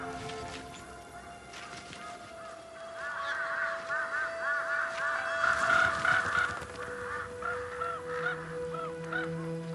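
A flock of crows calls repeatedly, harsh overlapping caws swelling in the middle and thinning toward the end, over a steady low background hum.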